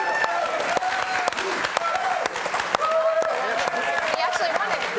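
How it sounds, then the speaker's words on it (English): An audience applauds steadily for an award winner at a footy show, dense continuous clapping with a few sharper claps standing out and voices faintly mixed in underneath. "Round of applause."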